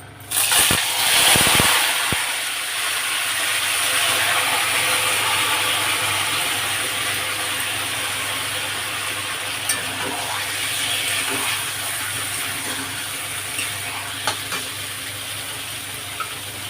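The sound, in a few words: marinated chicken added to hot oil, sizzling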